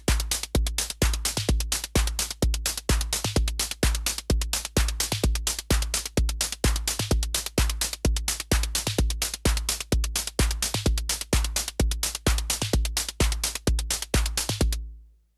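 Four-on-the-floor house beat programmed on a Korg Volca Drum, a steady kick on every beat with crisp hats and percussion, rapid and relentless, loud and close, stopping abruptly at the end, no voices.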